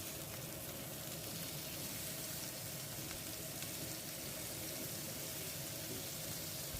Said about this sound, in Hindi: उसके बाद हमने जो कबाब बनाए थे वो रखते जाएंगे और इसको लो टू मीडियम फ्लेम पे हम कुक करेंगे